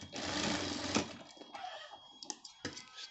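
Sewing machine stitching a shirt, a dense steady mechanical whir for the first second and a half, then shorter uneven bursts and clicks as the stitching stops and starts, fairly close and without talk.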